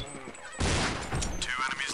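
Pistol shots ring out in the 2000-era Counter-Strike video game, a quick burst of sharp cracks followed by more shots, with a voice talking over them.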